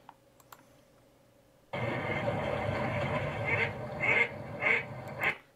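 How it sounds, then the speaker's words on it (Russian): A duck quacks several times in quick, loud bursts after a brief quiet start, close and clear with no speech over it. "Утка крякает."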